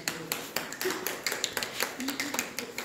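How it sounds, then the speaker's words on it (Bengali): Audience at a Bengali poetry book launch event clapping together, a steady patter of many hands close by with some voices over it. "সবাই মিলে একটু করতালি দাও।"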